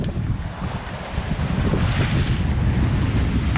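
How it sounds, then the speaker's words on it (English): Strong wind roars across a sailing boat on a confused, choppy sea in 15 to 16 knots of breeze, with heavy wind buffeting on the microphone and steady rushing water, loud and continuous, no voices. "Only seeing about 15 to 16 knots of wind, but with this confused sea state, it's getting a little bit on the rocky side"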